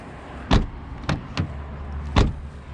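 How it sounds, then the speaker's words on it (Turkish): Hyundai Bayon car doors shut several times, four sharp thuds spaced irregularly over a quiet background, close and fairly loud. "Yine bir kapı testi."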